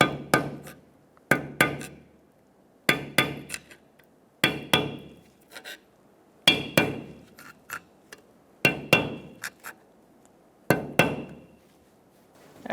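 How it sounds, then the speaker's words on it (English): A hammer taps a snap ring into the front wheel hub of a 2014–2019 Kia Soul during a wheel bearing job. Sharp, close metallic taps come mostly in quick pairs, repeated about eight times over a quiet background. "Tap in your snap ring to make sure it's locked in."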